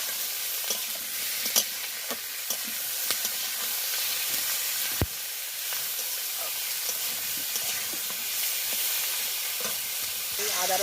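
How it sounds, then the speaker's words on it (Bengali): Prawns coated in salt and turmeric sizzle in hot oil with potatoes, a steady hiss broken by scattered clicks and scrapes of stirring, with one sharp knock midway. "এই নুন হলুদ মাখিয়ে চিংড়ি মাছগুলোকে এবারে ওই তেলের মধ্যেই দিয়ে দিচ্ছি, আলুর মধ্যে দিয়ে ভালো করে একটু নাড়িয়ে নিতে হবে।"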